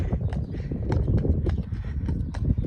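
Horse hooves clip-clopping at a walk after an hour of work in an arena, a steady near rhythm of dull thuds over a busy outdoor background.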